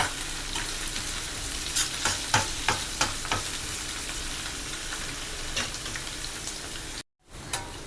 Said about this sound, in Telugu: కొంచెం కరివేపాకు వేసేసి ఒకసారి అటు ఇటు కలిపేస్తాం